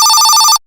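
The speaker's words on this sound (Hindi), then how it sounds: "एक मिनट रुकिए, फोन आ रहा।" A telephone bell rings loudly and close, a steady pulsing electronic trill that holds for about half a second and then cuts off abruptly into silence.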